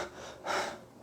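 A voice imitates panting, hyperventilating breath: one sharp, breathy gasp that swells and fades, close and alone.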